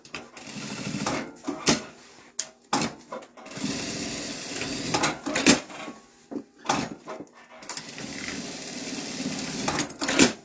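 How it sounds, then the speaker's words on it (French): A sewing machine stitches over a belt strap in runs of close, steady whirring, broken by short pauses and a few sharp knocks from handling. "je couds par-dessus ma sangle"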